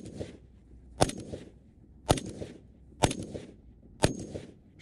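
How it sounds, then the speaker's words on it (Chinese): Five rapid rifle shots from a sniper at a 150-meter target, each a sharp crack about one second apart with short echoing tails, heard from some distance with no talking. "10秒之内对150米之外的靶标连射5发，全部命中靶心。"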